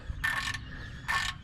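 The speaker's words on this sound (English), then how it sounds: "tighten it down good. I really need to torque it to 28 foot-pounds" Wrench ratcheting while tightening a bolt during maintenance on a Chevrolet Silverado, two short bursts of clicking pawl sounds about a second apart, close and moderately loud with no talking.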